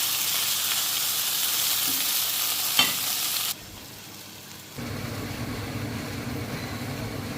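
Onion and tomato fry in a pan for a sardine dish, giving a steady close sizzle with occasional stirring that drops to a quieter hiss midway before the frying rises again.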